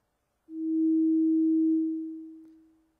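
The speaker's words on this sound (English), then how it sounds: "there's a rise up to the peak value, and then when I release the key, it slowly tails off." A single pure, steady SubTractor synthesizer tone swells up to full level, holds, then fades slowly away over a long release tail after the key is let go, heard alone in silence.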